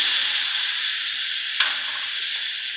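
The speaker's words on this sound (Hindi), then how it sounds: "इसमें हम मिल्क डाल देते हैं" Milk is poured into roasted flour in a hot pan for white sauce and stirred, making a steady close hiss and sizzle with one brief splash midway.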